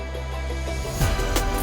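Drum and bass top loops playing in a full melodic mix without filter automation, dense bright percussion over sustained bass and pads, with a sharper hit near the end and no voices.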